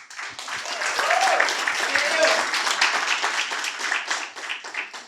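Applause from a church congregation, a dense wash of many hands clapping at once that holds steady and fairly loud, then thins slightly toward the end.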